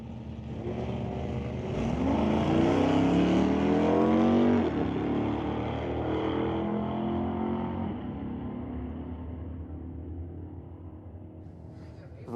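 A 1990 Mustang and a Camaro drag race down a quarter-mile strip, their engines roaring loudly with a rising, accelerating pitch that peaks early and then fades into a steady, more distant drone.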